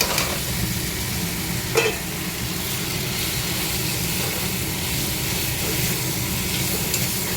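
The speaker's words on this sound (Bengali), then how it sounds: "এবার পটল আর আলুটা দিয়ে দেবো, দিয়ে আর একটুখানি ভেজে নেবো।" Pointed gourd and potato frying in oil spiced with masala, giving a steady, close, continuous sizzle with stirring scrapes and a brief clatter partway through.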